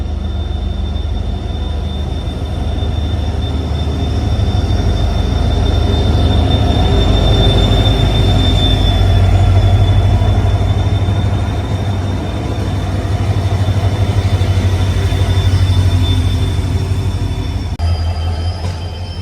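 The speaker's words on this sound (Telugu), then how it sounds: "ఇప్పుడు వచ్చిన గూడ్స్కి వెనకాల 3 పెట్టారు లోకోమోటివ్లు పుష్ చేయడానికి" A goods train with three locomotives pushing at the rear rolls past near Dudhsagar on the Secunderabad–Goa line, a loud, steady rumble of wagons and wheels with a thin metallic squeal running through it, no voices.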